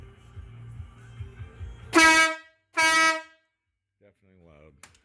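Moto train horns mounted on a 2015 Harley-Davidson Electric Glide, wired to the original horn button and sounded inside a garage: two loud, brassy blasts of about half a second each, with quieter sounds before and after.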